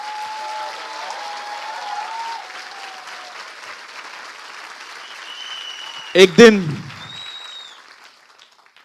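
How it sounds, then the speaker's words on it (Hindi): An audience at a Hindi-language Christian sermon claps together in sustained applause for several seconds, loud and even, under the preacher's voice speaking over it, before it tapers off and fades. "आइए प्रभु के लिए एक अच्छी ताली बजाएं।"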